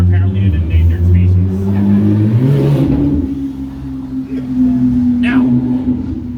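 A loud car without a muffler roars past on an Orange County street at night, its low engine tone rising and then fading away over several seconds while a voice talks over it.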